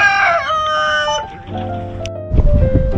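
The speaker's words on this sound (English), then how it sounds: "Chicken." A rooster crows loudly close by on a large farm that also keeps hogs, followed by a brief rustle and clucking and a burst of lower noise near the end.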